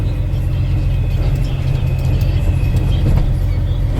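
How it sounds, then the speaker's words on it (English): Truck driving by, a steady low engine rumble and road noise held loud and close for several seconds with no talk over it. "There's one truck."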